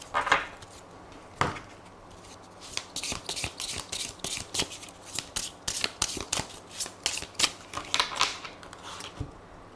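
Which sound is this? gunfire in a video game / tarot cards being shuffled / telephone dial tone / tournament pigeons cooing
tarot cards being shuffled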